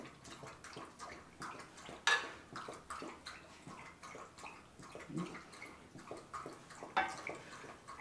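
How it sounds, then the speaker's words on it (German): A dog drinks water nearby, giving irregular wet lapping and smacking splashes with a few sharper slurps over about eight seconds, heard alone in a kitchen while flank steak wraps with peppers and onions are being prepared. "das was ihr übrigens hier gerade so schmatzen hört, das sind nicht schon die Esser, sondern das ist ein Hund, der gerade trinkt."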